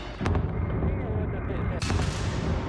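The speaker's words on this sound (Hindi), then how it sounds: "वीडियो में रूस के Ka-52 हेलीकॉप्टर पहले आसमान में उड़ान भरते हैं और फिर ओदेशा के सबसे बड़े तेल डिपो पर मिसाइल बरसाकर उसे तबाह कर देते हैं।" Missile strikes by Russian Ka-52 helicopters on Odesa's largest oil depot, a dense, continuous roar of blasts and rumbling booms with a sharp crack near the end, loud and close.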